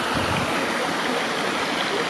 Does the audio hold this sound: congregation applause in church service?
no